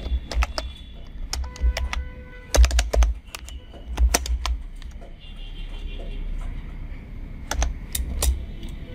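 Keys on a computer keyboard are tapped in short irregular bursts while typing the word Cancel, with crisp clicks over a low steady background hum.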